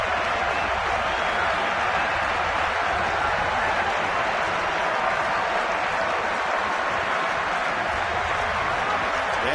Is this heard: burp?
no